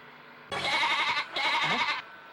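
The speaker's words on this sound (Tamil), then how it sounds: "என்னடா ஆடு கத்துற சத்தம் கேக்குது?" A goat in a Tamil film comedy scene bleats twice in quick succession, loud and close, with no talking over it.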